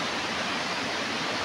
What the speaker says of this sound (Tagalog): kaya malakas yung tubig ngayon dyan sa daanan